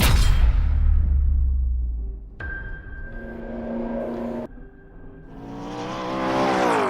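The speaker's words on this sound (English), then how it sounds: "we're talking about the P1 GTR" A McLaren P1 GTR race car engine revs hard, climbing to a loud high-pitched scream, then holds a steady tone, drops away, and rises again in a rising whine, close and without voices.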